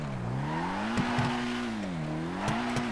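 Modded car engine in GTA 5 revving steadily, its pitch rising and falling in a smooth sustained drone with a few brief clicks and knocks, close and alone.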